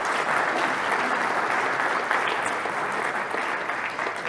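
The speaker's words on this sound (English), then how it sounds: "please give yourselves a round of applause for that" Loud, dense applause from a crowd at a flight simulation expo, sustained and even across the whole stretch, with no talking on top.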